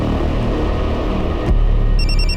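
Loud rumbling background, then a telephone starts ringing near the end with a high, pulsing electronic tone.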